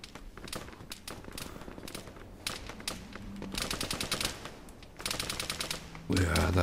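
Rapid bursts of automatic gunfire in the military video game Arma 3, crackling in repeated volleys of varying loudness with a louder close burst near the end, mixed with other battle noise.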